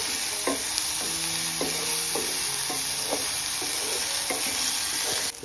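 Ground masala paste for kantola (spiny gourd) vegetable sautés in a pan, a loud, continuous sizzle close by, broken by repeated scraping strokes of a stirring spoon.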